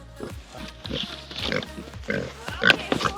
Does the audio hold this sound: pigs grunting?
yes